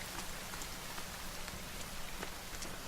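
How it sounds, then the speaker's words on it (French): Rain falls steadily in the survival video game The Forest, an even, constant patter of drops on surfaces, fairly close and uninterrupted, with no speech over it. "Et il pleut en plus."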